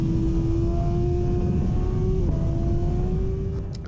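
A racing motorcycle's engine screams loud and close on a fast section of Donington circuit, its steady high drone dipping briefly as it short-shifts up a gear midway, then pulling on before easing off at the end.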